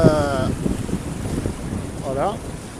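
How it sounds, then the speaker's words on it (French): Wind rushing across a sailboat under sail off Corsica near Porto Vecchio, engine off, a steady breathy roar with water wash beneath and brief voices at the start and again near the end. "Ça y est, le vent rentre, 5-7."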